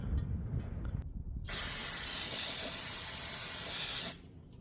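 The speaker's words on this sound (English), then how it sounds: "Brake cleaner to get all that looby tube off." Brake cleaner sprayed onto a shortened F100 frame's metal tube to strip off cutting fluid: one continuous, loud, close hiss lasting about three seconds, then cut off abruptly, over faint shop noise.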